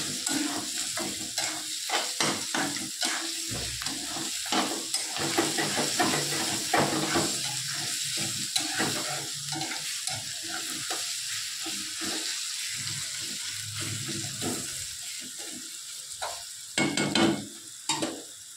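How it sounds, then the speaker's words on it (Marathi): Garlic-ginger paste fries in oil with onions, a close, steady sizzle broken by frequent scraping stirs of a spoon against the pan, growing busier toward the end, with no talking. "लसूण अद्रकची पेस्ट कच्ची नाही राहावं म्हणून चांगली फ्राय करून घ्यायची, याच्यामध्ये मिक्स करून घ्यायची तेलात आणि कांद्यामध्ये"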